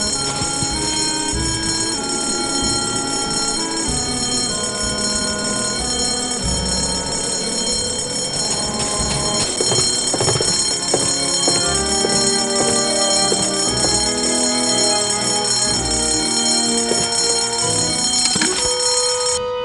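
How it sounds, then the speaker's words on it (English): A fire alarm bell rings continuously and loudly in the adventure game Escape from Monkey Island, with music and game effects layered over it throughout. "False fire alarms cost lives."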